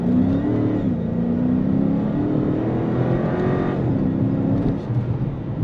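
A Dodge Charger R/T with a 5.7 Hemi V8 rumbles and revs while driving, heard from inside the cabin, with a deep steady growl that rises and falls in pitch with throttle, loud and continuous, no talking.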